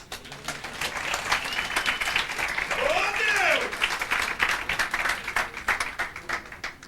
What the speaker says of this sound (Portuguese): Palmas para os nossos atores.